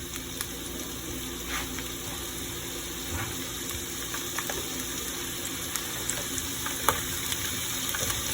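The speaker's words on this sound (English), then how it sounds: "So just a little bit of oil because we're about to cook the onions and the peppers." Onions and peppers fry in a little oil on a stove turned up high, for kielbasa with sweet peppers, making a continuous close hiss with scattered small pops and crackles throughout.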